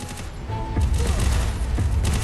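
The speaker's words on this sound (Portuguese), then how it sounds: "Dá um tiro, Luiz." Gunfire from the video game Free Fire crackles in a rapid burst of shots over a dense background of game noise, loud and continuous.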